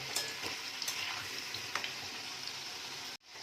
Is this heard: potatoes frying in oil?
yes